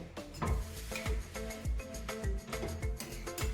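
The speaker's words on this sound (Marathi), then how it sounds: "पूर्ण पाक मी याच्यामध्ये घातलेला आहे आणि हे छान मिक्स करून घेऊया" Sugar syrup being mixed into ghee residue in a pan for barfi, with a rapid, steady series of soft scraping and wet stirring strokes, close and continuous.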